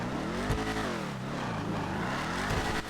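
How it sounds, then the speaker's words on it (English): Vapid Dominator ASP engine in GTA 5 Online, a steady throaty drone with rising and falling revs across a few seconds, loud and close with no talk over it. "this is how the vehicle sounds"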